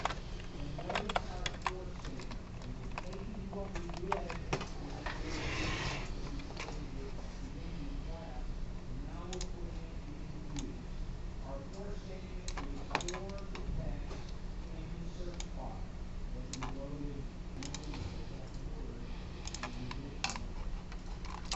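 Steady run of computer keyboard keystrokes as code comments are typed, irregular clicks close to the microphone over a low electrical hum, continuing throughout with no talk.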